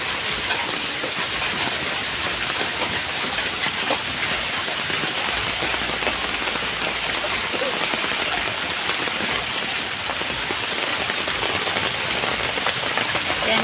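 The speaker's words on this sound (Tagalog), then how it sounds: "Medyo humina-hina nga ang ulan ngayon eh." Steady rain patters on a surface beside a muddy road while water runs along a dug drainage channel, a continuous broadband hiss with no talk.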